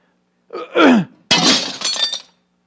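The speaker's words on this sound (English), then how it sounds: "you'll hear that sound like a real window being broken." A stone is thrown through a real glass window, giving a sharp crash followed by a spray of shattering, tinkling glass, just after a short gasp-like voice.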